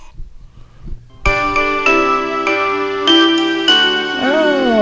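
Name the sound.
bells jingle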